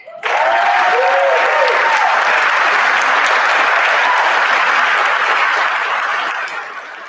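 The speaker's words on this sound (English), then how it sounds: "give you a big round of applause" A loud, dense round of applause fills a sports awards luncheon as an award goes to a high school football team, holding steady for several seconds before tapering off.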